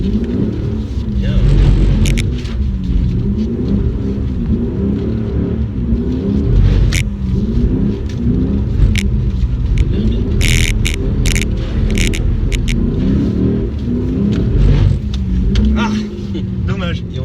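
Lexus RC F and GS F performance cars lap a race circuit, with a loud engine rumble rising and falling through repeated revving and acceleration, heard from inside the car as voices talk over it.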